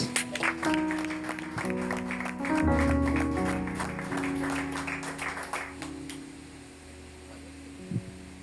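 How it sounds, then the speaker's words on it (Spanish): A congregation at a church service claps in a scattered burst of applause over a steady electrical hum, the clapping thinning out and fading after several seconds. "Un fuerte aplauso"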